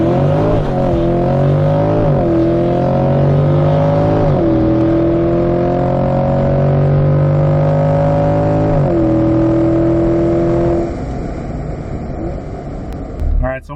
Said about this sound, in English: I put it back in regular mode, and we're gonna launch it again.